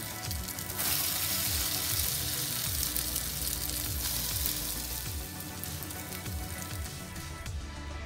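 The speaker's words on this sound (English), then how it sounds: "you'll need to flip them over and cook the other side for another 2 minutes." Aubergine patties fry in a pan, giving a loud, steady sizzle with crackling pops throughout and no voices.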